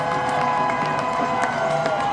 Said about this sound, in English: So people are cheering.